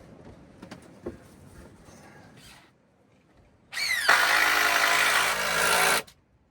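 A power drill drives a screw into wood, one loud, steady whirring run of about two seconds with a rising whine at the start, following a stretch of quiet handling and tapping noises.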